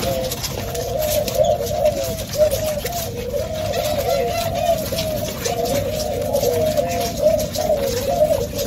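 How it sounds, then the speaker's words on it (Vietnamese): Pet birds kept in a cage give a steady run of soft, rhythmic cooing calls that repeat across the whole stretch over a constant low background hum, with no other voices. "Trong này còn có hai chim nổi nha, hai con hết vậy."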